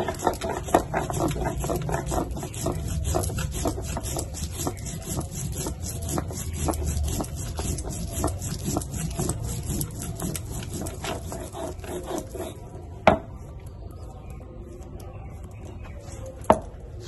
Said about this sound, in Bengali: এখন একটু জিরে বেটে নেবো।